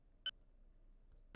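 A single short electronic phone beep in the game Phoenix Wright: Ace Attorney, quiet and crisp, sounding once amid near silence.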